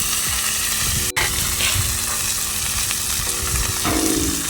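Chopped mustard greens hit a hot wok with browned onion and garlic cloves, setting off a steady, loud sizzle and crackle while they are stirred, with one sharp clank partway through.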